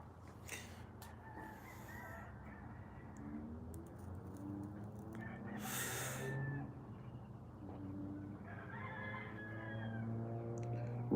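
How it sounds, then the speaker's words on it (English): Roosters crow across a quiet evening backdrop, their calls rising now and then over faint low background noise, with no talking. "Roosters."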